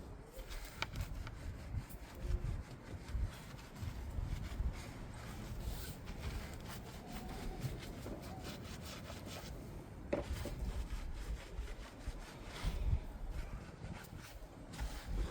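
A brush scrubs the inside barrel of a car wheel, giving a steady close rubbing and swishing that runs throughout at low volume, with faint outdoor ambience and no talking.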